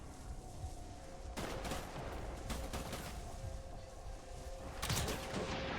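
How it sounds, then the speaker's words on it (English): Bursts of gunfire from the video game Death Stranding, with sharp volleys of shots cutting through a steady, noisy in-game background, the strongest near the start and again near the end. "Stop fucking shooting me!"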